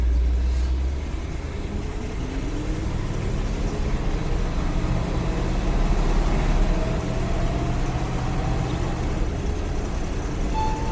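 A 1956 Cadillac Sedan DeVille engine running on the move, a steady low rumble with road and cabin noise throughout, a smooth even drone with no voices.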